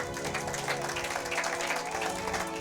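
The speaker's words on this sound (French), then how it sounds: "Acclamons pour la gloire de l'Éternel notre Dieu" A church congregation applauds together in worship, a steady wash of clapping that keeps going at an even level throughout, with a faint hum of voices underneath.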